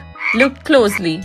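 Frog croaks come in two close, loud bursts of raspy, throaty calls, with a spoken voice overlapping them.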